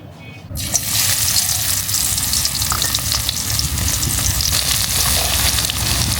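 Mustard oil in a kadai heating for fried onion beresta gives a loud, steady, close hiss and crackle that starts abruptly and carries on unbroken.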